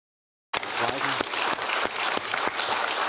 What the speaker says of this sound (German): Aber wieso klatscht man nach so einem Satz?